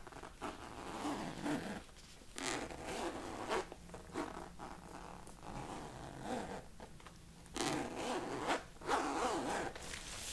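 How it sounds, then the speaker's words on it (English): Zipper on a lost-and-found bag being tested in a close-miked ASMR setting, with repeated short rasping pulls separated by brief pauses, near and crisp, and no talk. "now what's left to do but to test the zipper"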